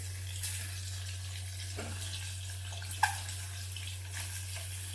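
Eggs frying in oil with chili and turmeric powder for an egg biryani, a steady broad sizzle held at an even level over a low hum, with a couple of faint clinks and no talk.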